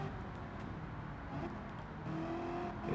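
Racing car engines roar in Gran Turismo 7 as a race runs past a Viper, a loud, sustained drone of revving and shifting engine pitch with no voices.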